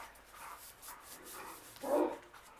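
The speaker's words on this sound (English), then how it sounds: "That's Buddy barking. Wonder what he's barking at." A faint dog barks a few times in the distance, with one louder bark near the end, in an otherwise quiet room.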